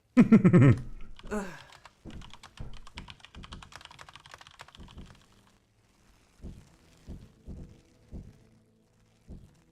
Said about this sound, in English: Perhaps try using the keyboard?